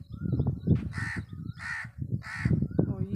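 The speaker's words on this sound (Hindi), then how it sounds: "अब यहाँ पे कौवे बोल रहे हैं, काव काव कर रहा है।" Crows cawing in a village, three loud harsh calls spaced about half a second apart, standing out over a steady low background murmur.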